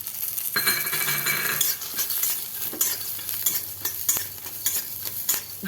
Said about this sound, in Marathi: याच्यामध्ये शेंगदाणे घालूया,